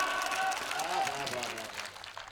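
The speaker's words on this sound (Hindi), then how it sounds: "तालियां कमजोर है भाई साहब। जोरदार।" Audience applause at a Hindi comedy poetry show swells briefly then fades, a crowd clapping loosely with chatter mixed in.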